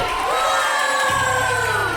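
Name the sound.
crowd clapping and cheering farewell to eliminated twins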